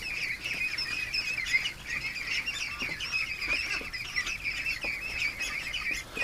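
Ducks out in the rain keep up a dense, overlapping run of nasal quacks and honks at moderate distance, with no pause and no talking.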